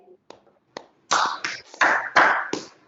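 A workshop audience claps: two single sharp claps, then a run of loud, close bursts of clapping in an uneven rhythm.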